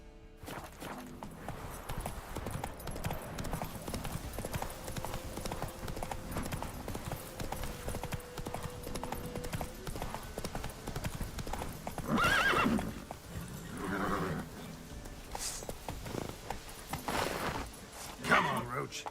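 Clip-clop hooves of Roach, a horse in the video game The Witcher, galloping steadily with a whinny or two, heard alongside game sounds and a voice urging the horse on.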